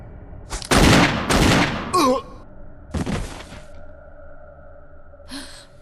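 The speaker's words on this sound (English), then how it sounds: "Barry actually toughens up and comes to my rescue, shooting Wesker twice and choosing friends over family." Gunshots in the Resident Evil video game: a couple of loud sharp blasts close together, then another single shot a moment later, with game sound effects and a low ambient hum between them.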